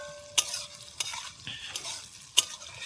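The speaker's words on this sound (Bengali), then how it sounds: "এর ভিতরে আলুটাও ভেজে নিই" Potato pieces and onions frying in oil in an outdoor picnic pan, a soft sizzle with a few sharp spatula clinks against the pan.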